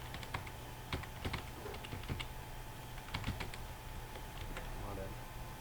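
Fingers tap on a computer keyboard in scattered quick bursts of soft clicks, close and fairly quiet over a steady background hum.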